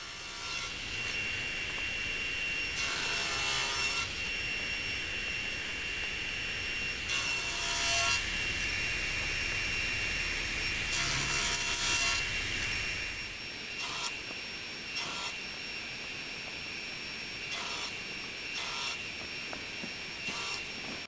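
Wooden spokes for a ship's wheel are sawn in a jig, giving repeated rasping strokes in separate bursts over a steady background machine hum, with shorter cuts toward the end.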